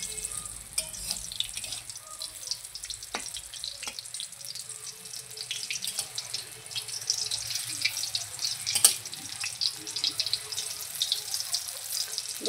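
Big fish-roe fritters fry in hot oil over low heat with a steady, close hiss and bubbling, dotted with sharper crackles and pops throughout, and no voices.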